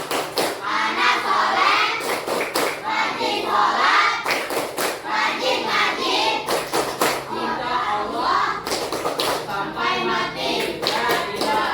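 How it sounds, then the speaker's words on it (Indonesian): Children clap the Tepuk Anak Soleh rhythm in a classroom, sharp patterned bursts of claps repeating between stretches of chanted voices. "Coba kita tepuk anak soleh."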